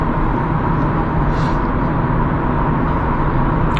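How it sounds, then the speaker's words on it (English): A car passes on the road beside a Renault Kangoo ZE electric van, heard from inside the quiet van as a steady, fairly loud traffic and tyre roar with no talking. "I can hear that car beside me."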